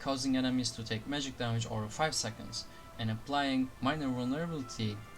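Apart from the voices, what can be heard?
No everyday noises stand out.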